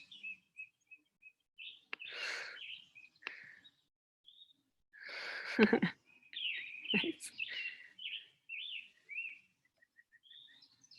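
Birds chirp and tweet outdoors in short, repeated high calls, fairly close, with a few thuds and a brief spoken word among them.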